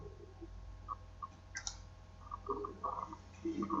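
Computer mouse clicking while opening Visual Studio Code, a few sparse, faint sharp clicks scattered over quiet background hum, close and isolated.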